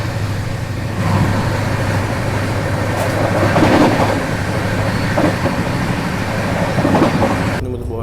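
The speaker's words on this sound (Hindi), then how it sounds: "नेताजी एक्सप्रेस आ रही है।" Netaji Express train passing close by in India, a loud continuous rumble of rail cars with rhythmic wheel clatter over the joints throughout.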